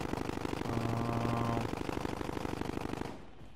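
Rapid automatic gunfire in a video game shooter, a steady, fast rattle of shots that runs loud for about three seconds before cutting off into quiet.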